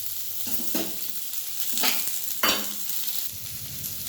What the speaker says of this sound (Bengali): তো আমটাকে হচ্ছে এইভাবে একটু ফ্রাই করে নেবো